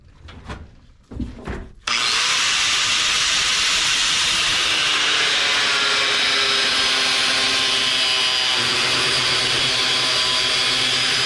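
A power tool grinds a motorcycle chopper fuel tank, a loud continuous high-pitched whine with gritty hiss that starts abruptly after a couple of brief knocks and holds steady to the end.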